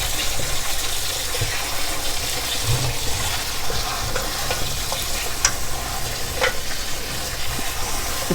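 Fresh cranberries rinsed with water in a kitchen, a steady broadband rush of running water and splashing that continues for the whole stretch with brief sharper splashes and no talking.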